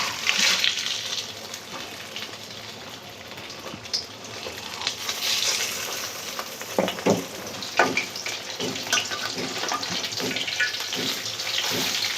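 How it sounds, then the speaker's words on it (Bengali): Chital fish kofta balls fry in hot oil, a steady crackling sizzle with broadband hiss running throughout and a few sharper pops and clinks from turning or handling, close and fairly quiet with no talking. "তেল গরম হয়ে গেছে, আমি এক একটা করে সব ভেজে নিব।"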